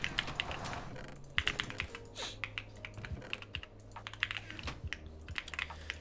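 Fast, irregular mouse clicking during a Minecraft Skywars match, with sharp clicks coming in dense bursts and short pauses over a steady low game hum, close and fairly loud.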